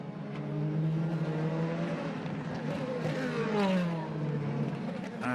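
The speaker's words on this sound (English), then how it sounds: "Rockenfeller launches out of the pits again." A DTM touring race car accelerates hard out of the pit lane at Oschersleben, its loud engine note climbing steadily through the gears with rising harmonic pitch, continuous and near.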